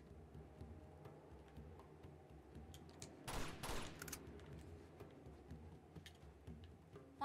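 Gunfire in the video game Uncharted 2: Among Thieves, a brief, faint burst of rapid shots over a low, quiet game background.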